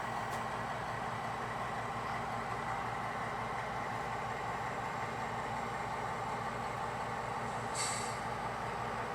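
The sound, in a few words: DRGW passenger train passing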